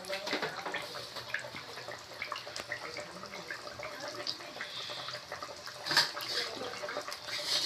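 A pot of fish curry with catla, green banana and potato bubbles at a low simmer, giving a soft continuous burble with faint splutters and pops, fairly quiet and without voices.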